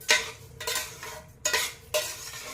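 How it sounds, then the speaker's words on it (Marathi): Carrot halwa with milk and cardamom powder being stirred in a pan: three distinct scraping strokes of a spoon against the metal, each with a soft wet swish, close up and alone. "वेलची पूड अर्धा चमचा आणि मिक्स करून घेऊया"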